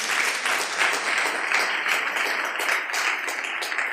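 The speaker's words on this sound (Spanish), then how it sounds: "Dele palmas al Señor con todo su corazón" A church congregation claps together during a Spanish-language sermon, a steady, dense wash of applause that holds evenly throughout with no talk over it.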